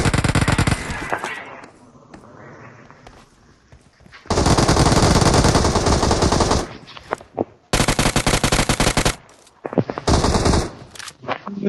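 Machine gun fire in the battle royale game BGMI: loud, close bursts of rapid automatic shots, several sustained volleys separated by short quieter gaps with faint background noise.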